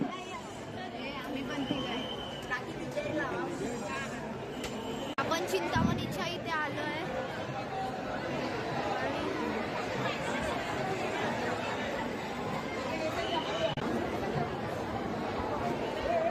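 Dense crowd chatter and babble from a packed Chintamani Ganpati darshan in Mumbai, a steady continuous hubbub of many voices close around, with a person talking over it.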